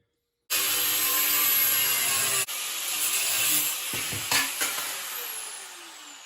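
An angle grinder cuts through a Triumph Spitfire bumper: a sudden loud, harsh whirring roar that changes tone about two seconds in as the cut continues, with scraping grit, then winds down and fades.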